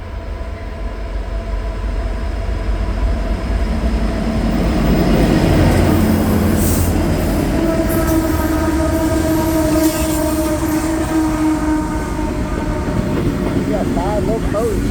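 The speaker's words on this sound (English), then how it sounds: "We got 5 locomotives." CSX manifest freight train led by five EMD locomotives rolls past close by, a loud sustained roar of diesel engines and rumbling wagons throughout, with faint talk partly under the noise.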